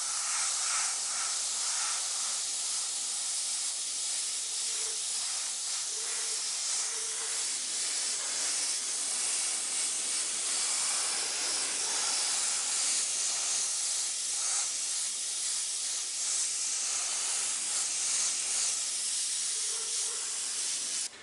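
A spray gun spraying paint onto a wood gun stock, a continuous loud airy hiss running unbroken throughout, close to the listener, with no voices.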